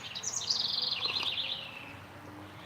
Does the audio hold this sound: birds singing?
yes